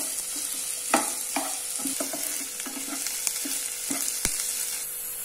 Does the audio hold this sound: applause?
no